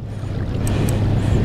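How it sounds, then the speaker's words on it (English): Gusty wind rumbles into the microphone out on open water while fishing, a steady low roar with faint splashing and no talk. "it's getting a little windy out here"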